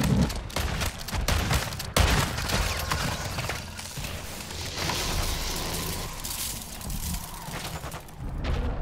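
Rapid gunfire from shooting a zombie in Call of Duty: Modern Warfare 3 open-world zombies mode, loud dense bursts that rattle on almost without pause, with heavy impacts mixed in and no talking.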